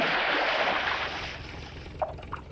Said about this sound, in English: The tractor hits the water with a great splash.